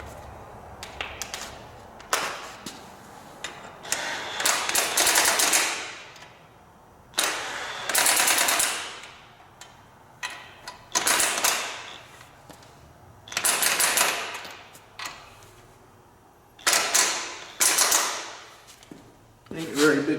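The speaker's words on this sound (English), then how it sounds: "I've got a 1/2 inch socket for the impact here." An impact wrench with a half-inch socket snugs the small bolts on a portable winch mount, firing rapid rattling bursts nearby with pauses between them, while a person talks in between.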